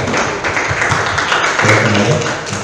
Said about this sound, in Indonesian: Tepuk tangan kelompok kita